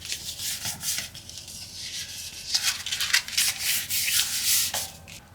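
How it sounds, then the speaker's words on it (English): A paper strip being folded and creased by hand for a junk journal pocket, a close, continuous rustling and scraping of paper with a brief sharper crinkle midway. "Now we're going to need to fold."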